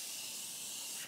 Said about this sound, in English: I'm gonna put a little bit of setting spray on,